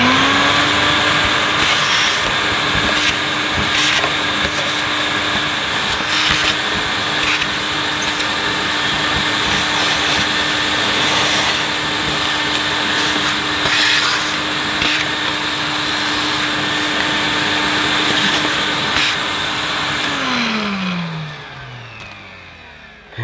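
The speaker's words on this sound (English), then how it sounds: "I'm going to plug the hose back in and use the cleaner to clean itself." A 1980s Electrolux Electronic 506 upright vacuum cleaner runs steadily with a loud, constant motor whine and airflow roar, then winds down as it is switched off near the end.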